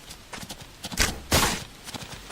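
A few horse hoof clops and thuds in a video game, soft and irregular, with a louder burst of footfalls in the middle over faint background noise.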